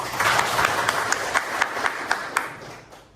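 A classroom group claps in applause, with a run of sharp, evenly spaced hand claps over a dense clapping bed that fades toward the end.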